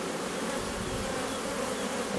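Agitated honeybees swarming around a small nucleus hive, making a dense, steady, close buzzing drone with no voices over it.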